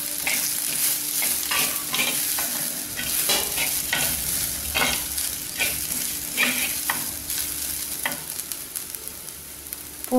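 Grated coconut is sautéed and stirred in a pan for vegetable kurma, with a continuous close sizzle and repeated scraping strokes from the spoon throughout.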